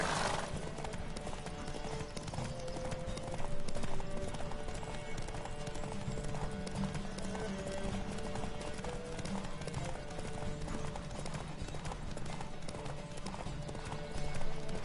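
A horse gallops hard during a race in The Witcher 3 video game, its hooves drumming in a fast, steady rhythm close by for the whole stretch, with occasional faint whinnies mixed in.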